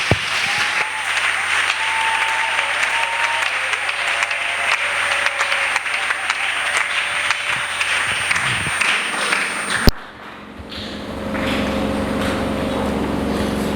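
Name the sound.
church congregation applause and cheering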